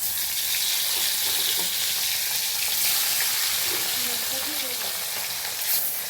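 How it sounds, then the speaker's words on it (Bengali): Fish fry lightly in hot oil in a pan, producing a loud, dense, continuous crackle and sizzle, close up and unbroken, with a few faint spatters and stirring noises. "দেখো এখানে মাছগুলোকে ভেজে নিচ্ছি"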